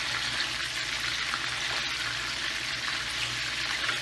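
Seekh kebabs fry in oil in a pan on the stove over medium heat, giving a steady, even sizzle with no talk throughout.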